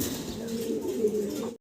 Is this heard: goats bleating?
no